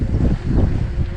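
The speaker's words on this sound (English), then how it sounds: "Hopefully you can hear me because it's really windy." Strong wind buffets the microphone with a continuous low roar that gusts and surges throughout.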